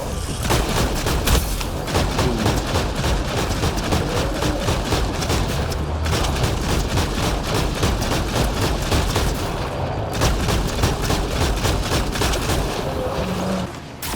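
Relentless rapid-fire shots from a custom gun build in the video game Mass Effect Andromeda, loud and dense, with booming impacts running almost without pause.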